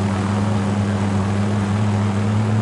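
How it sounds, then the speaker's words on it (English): Helicopters fly nearby in a shooter game, producing a loud, steady droning rotor hum with a strong low tone that holds unbroken throughout, with no voices. "there's 2 choppers on our ass"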